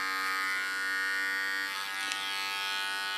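An electric hair clipper cutting hair during a haircut. It makes a close, steady buzzing drone with a brief change in tone partway through as it moves against the hair, and no one speaks.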